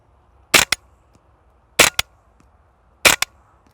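A rifle fires .22 subsonic rounds, three sharp, quiet cracks evenly spaced about a second and a quarter apart, each followed at once by a short metallic action click, with near silence between.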